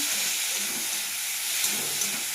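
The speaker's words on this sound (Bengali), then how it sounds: "এবার দিয়ে দিলাম কেটে রাখা টমেটো পেঁয়াজ আর লঙ্কা। আমি ভালোভাবে একটু ভেজে নেব।" Chopped tomato, onion and green chili frying in a pan of hot oil with bay leaf and spices make a continuous, fairly loud, even hiss.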